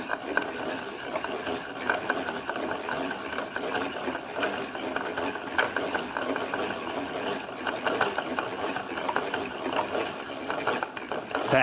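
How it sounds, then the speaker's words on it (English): A yarn winder cranks steadily, winding yarn for crochet with a continuous ratcheting, clicking mechanical whir close by, with brief voices at moments. "Let's see how much this winder will hold."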